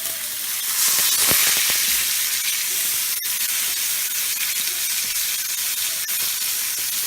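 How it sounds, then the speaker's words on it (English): Beef fillet sears in a very hot pan for beef Wellington, giving a loud, steady sizzle and hiss that runs throughout with no talk. "You're going to sear all 4 sides of it"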